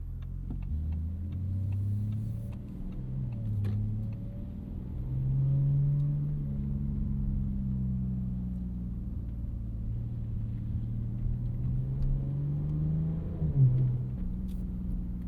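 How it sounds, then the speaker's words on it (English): A 2025 Audi SQ5 turbo V6 engine rumbles and revs, its pitch rising and falling through gears in a deep, continuous drone. "Even if you're not a V6 enjoyer, you have to admit that's a cool noise."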